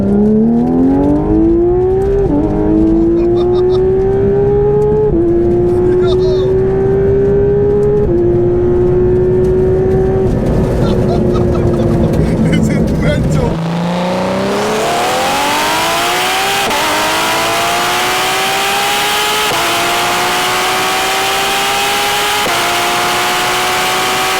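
A twin-turbo Porsche GT3 RS accelerates hard in second gear, its engine note rising loud and steady through the revs with a brief dip near the midpoint before climbing again, heard from inside the car without talk.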